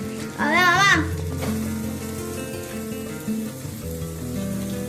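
Sweetened green pea filling for kochuri hits a hot pan and sizzles loudly and steadily, with a brief high voice near the start.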